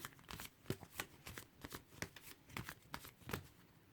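Tarot cards from the Wisdom of the Hidden Realms deck are shuffled close by in a steady run of soft riffling flicks and slides, with a few sharper snaps as cards are drawn.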